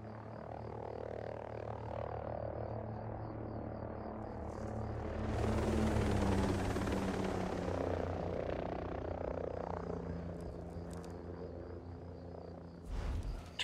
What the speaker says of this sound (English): chopper overhead. Stay low.